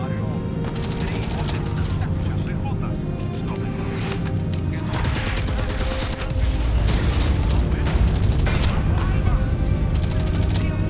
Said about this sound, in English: the artillery is finally coming in as well